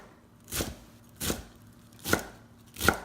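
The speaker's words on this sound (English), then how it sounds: "So I'm just going to give it a rough chop" A knife roughly chops fresh cilantro on a cutting board, four separate dull thuds spaced under a second apart, close and clear with no talk.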